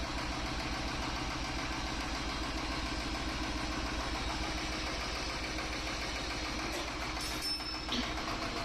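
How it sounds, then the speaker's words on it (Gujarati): A VST power tiller's repaired diesel engine runs steadily at idle, a continuous close, loud mechanical chugging with a low rhythmic knock that holds throughout, with a brief metallic clink near the end. "ટ્રેક્ટર સંપૂર્ણ રીતે વ્યવસ્થિત સ્ટાર્ટઅપ થઈ ગયું છે"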